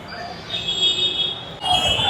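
Platform ambience at a Bengaluru metro station on the Green Line, with a steady high-pitched whine and rumble from a metro train, then a sudden shift to louder mechanical rumbling, all fairly close.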